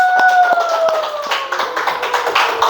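A classroom group claps for the first team in an Islamic banking class, with quick, dense hand claps that thicken toward the end, and sustained tones in the background.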